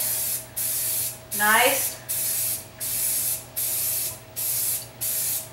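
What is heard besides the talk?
spray paint being sprayed onto cardboard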